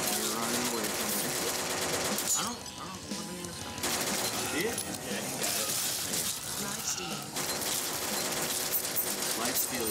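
Gunfire in the video game Gauge of Rage, dense rapid bursts of shots with shattering crashes running almost continuously, with game music and voices mixed underneath.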